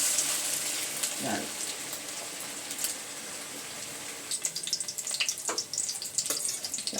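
Prawn fritters dropped by hand into hot oil fry with a soft, steady sizzle, joined by denser bursts of crackling and a few sharp spatters in the latter half, quiet and close with no speech.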